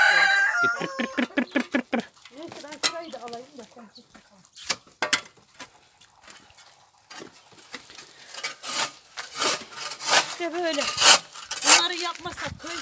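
Chickens cluck and a rooster crows repeatedly nearby, with bursts of people talking and clattering in between.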